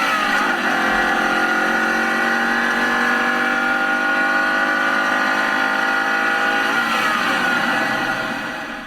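A 2015 Ford Mustang engine hums at a steady idle, rumbling and droning loudly and close, with no one speaking over it.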